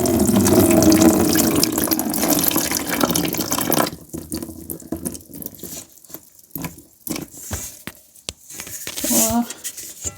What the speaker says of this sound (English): what you would do now is to remove the water at the top. So I'm just going to decant it here